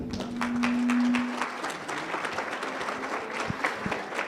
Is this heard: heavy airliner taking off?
no